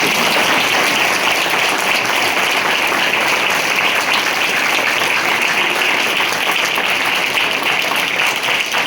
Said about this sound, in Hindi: मेरे लिए तालियां बजा सकते हैं